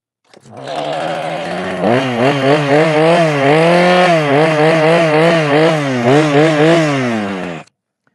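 A loud chainsaw cutting into a van roof starts, then revs and drones steadily for several seconds before cutting off abruptly.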